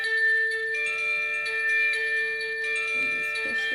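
Rapid egg cooker ringing when finished, a sustained electric bell-like tone with steady bright overtones, close and fairly quiet, with light handling noise near the end.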